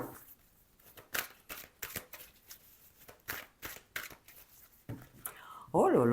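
Tarot cards shuffled by hand in repeated quick riffling bursts, close and crisp, with someone speaking French over and between them.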